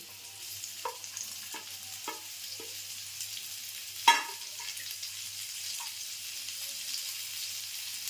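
Chopped ginger and small tomato fry quietly in a pan, with a few distinct scrapes of a spoon stirring through them and one sharper clatter midway, over a faint steady background hum.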